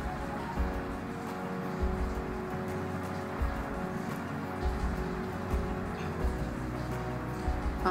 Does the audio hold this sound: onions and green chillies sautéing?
yes